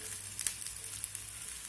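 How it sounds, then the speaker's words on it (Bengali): Spinach and egg fritters frying in oil in a pan, a steady soft sizzle with a few faint pops throughout, heard alone and fairly close. "এখন অন্য পাশটা ভাজার জন্য উল্টে দেব"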